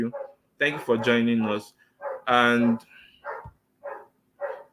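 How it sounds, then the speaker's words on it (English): A dog barks in short bursts in the background while a person speaks over it in a plain indoor setting. "Sorry about the dog that is barking."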